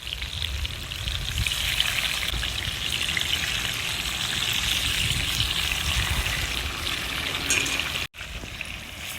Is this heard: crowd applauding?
no